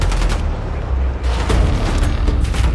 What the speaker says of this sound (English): It has one of our scud launchers. Open fire!